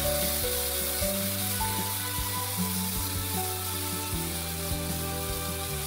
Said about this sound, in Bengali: একটু কালো জিরে আর কাঁচা লঙ্কা দিয়ে হালকা ভেজে নিলাম